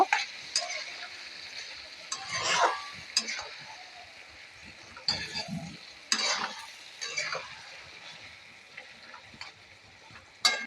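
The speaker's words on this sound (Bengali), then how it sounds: "পোস্ত আলুটাকে ভালো করে মিশিয়ে নেব" Potol posto, pointed gourd with potato in poppy seed paste, being stirred and fried in a pan, with intermittent scraping stir strokes and soft sizzling over roughly eleven seconds, no talking.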